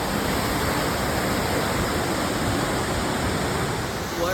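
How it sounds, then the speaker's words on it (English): A waterfall roars in a dense, steady rush of falling water, loud and close, a continuous broadband wash with no pauses or voices. "Second waterfall."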